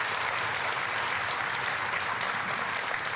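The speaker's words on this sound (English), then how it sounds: "Let's give her another round of applause." Steady applause from an audience at a high school tenth anniversary celebration, a dense even wash of clapping heard at moderate distance throughout, with no talk over it.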